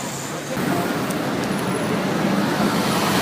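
Street traffic in Paris near the Opera metro station, a steady broadband roar of cars and buses that swells slightly after the first half second and holds continuously close by.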